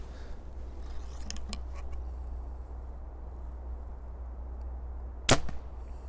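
A single sharp arrow release from a PSE Stinger Xtreme compound bow snaps out over a low steady hum, with a couple of faint clicks shortly before it.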